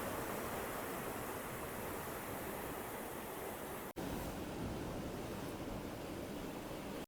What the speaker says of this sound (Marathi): बाजूला समुद्र आहे त्यामुळे समुद्राचा आवाज बेभान होऊन गरजतोय पूर्णपणे